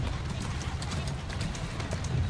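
Horse hooves clopping as the horse backs up in Assassin's Creed Syndicate, a quick run of light, close hoof knocks over a continuous ambient bed.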